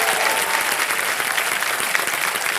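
Steady, dense applause from a game show studio audience on Kaun Banega Crorepati, loud and continuous throughout with no pauses.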